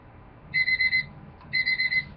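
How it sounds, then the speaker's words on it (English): A morning alarm goes off with two short bursts of rapid, high-pitched electronic beeping and a brief gap between them. The beeping is clear and close, with no talk over it. "And there's my alarm."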